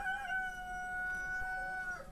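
A rooster on a farm housing about 1,300 chickens crows once in a long, sustained call, faint and somewhat distant, with low barn noise beneath and no talking.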